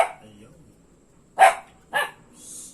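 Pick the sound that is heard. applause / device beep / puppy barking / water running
puppy barking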